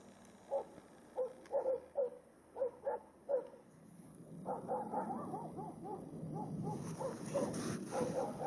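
Hunting dogs bark in short clustered bursts at first during a wild boar hunt, then a noisy chorus of many barks and yelps overlaps continuously, moderately distant outdoors.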